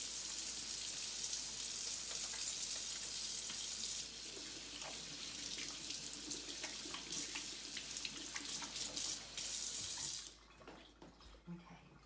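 Hands are washed and scrubbed under a running kitchen tap, with a steady splashing hiss of water that changes texture as the hands move and then cuts off near the end.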